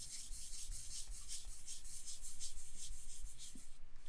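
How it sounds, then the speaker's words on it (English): A board eraser rubs across a board during a solid mechanics tutorial, giving a steady run of soft, rasping strokes in a quick repeated rhythm, close and moderately loud, with no talking. "So let's do a little bit of erasing here."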